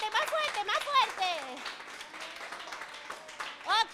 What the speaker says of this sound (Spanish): el aplauso más fuerte, más fuerte, más fuerte